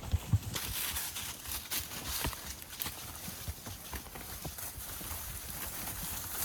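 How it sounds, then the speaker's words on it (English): Horses pick their way through trailless mountain terrain on an elk hunt, their hooves clopping in an uneven, steady walking rhythm over loud wind or rustling noise. "This is where it's cool to have horses. We have no trail here. We're just working our way along."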